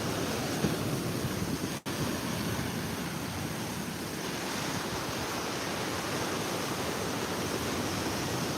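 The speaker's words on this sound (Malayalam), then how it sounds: "വേലിയേറ്റത്തിൻ്റെ സമയമായതുകൊണ്ട് തന്നെ തിരമാല ഭയങ്കര സ്ട്രോങ് ആവുന്ന" Strong sea waves at high tide roll in near a lighthouse as a steady, loud wash of surf, with wind over the microphone and a brief dropout near the start.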